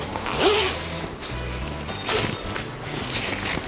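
Zipper on a Rynox riding jacket being worked by hand, a close, rasping zip stroke followed by fabric rustle and handling noise.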